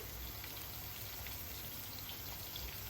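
Two small onions fry in just a little oil, browning with a faint, even crackling hiss that runs steadily throughout.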